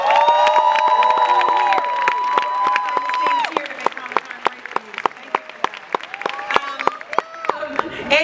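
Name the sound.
audience applause at Comic-Con Hall H panel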